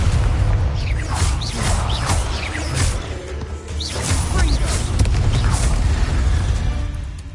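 Repeated Confringo fire-spell blasts and whooshing bursts in Hogwarts Legacy, loud and dense over rumbling low booms, with several explosive hits and crackles across the whole stretch of combat.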